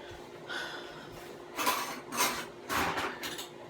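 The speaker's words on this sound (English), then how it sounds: "I'm going to just go ahead on and cut this little piece of onion that I got on up in there." A knife cuts a small piece of onion in a home kitchen while a turkey-and-rice stew is prepared, giving a few quiet, separate chopping taps against a board, close by and with no voice over them.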